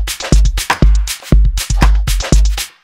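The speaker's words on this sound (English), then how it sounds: "I put some redux with some dry wet on, some saturator, and a parallel compression on the drums" Processed drum beat treated with redux bitcrushing, saturation and parallel compression, heavy booming kicks and bright crunchy snares and hats in a steady loud repeating pattern, no voices.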